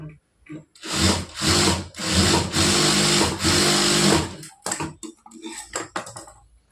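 An electric sewing machine stitching a blouse runs in loud, close bursts of rapid whirring, pausing briefly between runs, then gives way to scattered handling clicks and rustles near the end.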